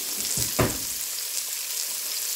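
Onions added to a hot pan for pork green chili stew, a soft burst of sizzling at the start followed by a steady, quiet frying hiss with a faint stir.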